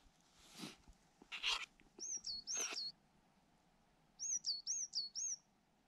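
Small bird chirping in a quiet forest at a wild camp, sharp repeated tweets in two clusters, clear against faint background hush and a few soft rustles.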